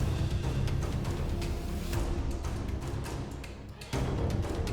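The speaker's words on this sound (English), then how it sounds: "of course, we have the Colagno strings, which sounds like this" Sampled Colagno string ensemble playing a sustained, full-bodied passage with dense low harmonies and accented attacks, steady and loud throughout with a short dip near the end.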